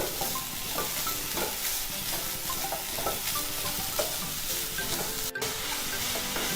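Sugar is stirred in a hot pan until it dissolves for a sweet Elanji filling. A spoon scrapes rhythmically over a continuous sizzling hiss under background music, with a brief dropout near the end.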